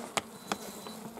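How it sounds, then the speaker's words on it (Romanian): Honeybees in a hive body full of bees give off a faint, steady buzzing hum with a couple of short louder clicks, heard close up and without voices. "este plin cu albină"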